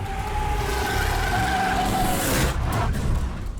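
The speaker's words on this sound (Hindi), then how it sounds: "गाड़ी आ रही है भैया" Vehicle approaching in a Hindi action film scene, a steady loud engine and road rush building over a few seconds with a faint siren-like tone, swelling into a brief skid-like burst near the end.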